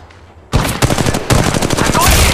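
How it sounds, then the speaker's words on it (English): Rapid automatic gunfire in the mobile shooter Apex Legends Mobile, loud close bursts of shots starting suddenly after a short quiet lead-in and continuing in quick, uneven volleys. "Shots fired at me."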